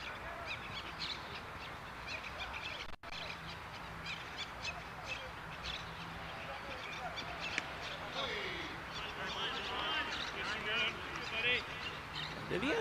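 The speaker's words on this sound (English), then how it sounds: "Hear the birds chirping away behind me." Faint bird chirps and calls in the background of an outdoor T10 cricket match in Madrid, Spain, with someone talking throughout over steady ambient noise.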